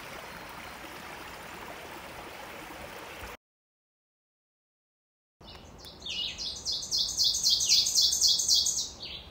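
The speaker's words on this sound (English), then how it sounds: "That's the ovenbird." Birdsong rings out over steady rushing water, then cuts to silence before a loud, repeated bright ovenbird song phrase returns close by, rising and falling in a rhythmic series.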